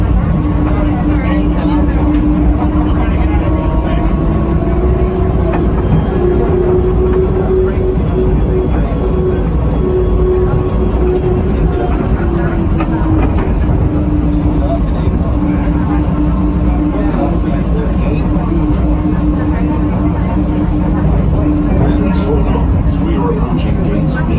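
Steady rumble of an airport rail train in motion at Dallas Fort Worth airport, a motor whine gently rising and falling over the constant low roar.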